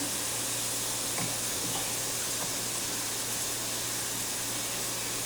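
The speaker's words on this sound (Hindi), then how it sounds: "अच्छे से इसको फ्राई कर लेंगे।" Onions frying in a generous amount of oil in a pan, a steady broadband sizzle and hiss throughout with faint stirring scrapes, no talk over it.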